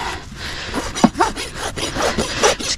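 A hand rasp files a horse's hoof during a trim, rough scraping strokes repeated in an uneven rhythm at close range.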